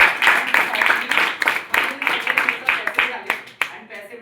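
Audience clapping in a Hindi motivational talk setting, dense applause with sharp claps running steadily throughout, moderately loud and close, with voices mixed in beneath it.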